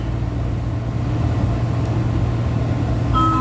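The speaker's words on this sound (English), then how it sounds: "This is the Blue Line train." Washington DC Metro Blue Line train heard from inside a car, a steady loud low rumble and rolling hum of the moving train running the whole time, with no one talking.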